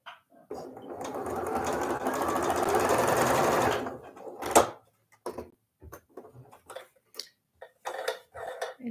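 A sewing machine stitches a pinwheel sawtooth star quilt block in one steady, close run of about three seconds, then stops, leaving a few light clicks and handling taps.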